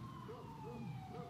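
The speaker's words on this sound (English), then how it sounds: "the sirens are going again" A distant siren wails with a slowly falling tone beneath faint low background rumble.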